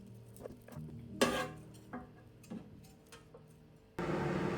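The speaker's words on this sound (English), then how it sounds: "so let's flip the ribs over" Pork ribs clatter and tick against a metal rack and tray as they are turned over in an air fryer oven. A few light clinks and scrapes land close by, then the oven's fan starts a steady whooshing hum near the end.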